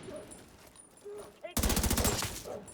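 Rapid automatic gunfire in a tactical cover shooter set in Washington, a loud close burst of fast repeated shots that starts abruptly after a quieter stretch with faint game sounds.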